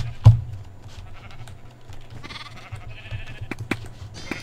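Sheep bleating in a Minecraft minigame: a few short bleats over a low background hum, with scattered game clicks and taps, moderately close and without talking.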